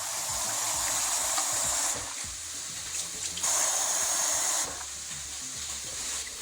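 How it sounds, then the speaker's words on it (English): Millet grain being rinsed under a running kitchen tap, a steady close hiss of flowing water that dips briefly and returns in bursts, with no talking. "So you rinse with water."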